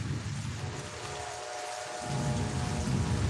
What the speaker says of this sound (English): Y'all can hear that thunder roar and this lightning and stuff.